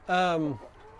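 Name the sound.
egg-laying chickens clucking on pasture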